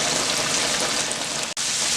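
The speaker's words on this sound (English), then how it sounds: "My pork chops is deep frying, and it still has a little way to go before I can flip it around." Pork chops deep frying in hot oil make a continuous hissing sizzle up close, broken by one very short drop-out near the end.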